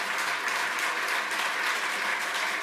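Audience at a football club fans' forum giving a round of applause, dense sustained clapping from many hands at even loudness, with no voices over it.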